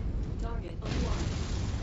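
A destroyed comm station in MechWarrior 5 explodes in a muffled, booming blast with a rough, rumbling tail, while a voice talks over it.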